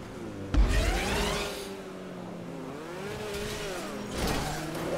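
A Weevil beetle car in GTA V floors it with a loud thump, then its engine climbs and dips through several revs in quick succession, ending in another surge of acceleration close by.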